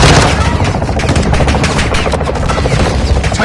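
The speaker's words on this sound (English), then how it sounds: "Taking belt-fed fire from beneath the tower." Belt-fed machine gun fire in the video game Modern Warfare II, a loud, continuous rapid burst of shots filling the whole stretch with no pauses.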